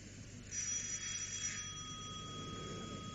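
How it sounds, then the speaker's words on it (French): A telephone rings in a French radio drama, a faint electric bell trill that swells briefly and then fades into a low hum, with no one speaking. "C'est encore cette vacherie de téléphone qui me réveille le lendemain matin."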